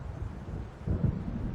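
Thunder from a storm approaching over the waves in the video game Alan Wake: a deep, distant rumble that swells briefly, mixed with wind noise.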